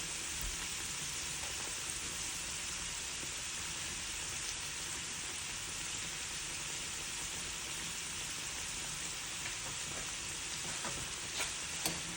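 Dough frying in a pan over low heat gives a steady, even sizzle that holds unbroken throughout, fairly faint, with a few light crackles and no voices.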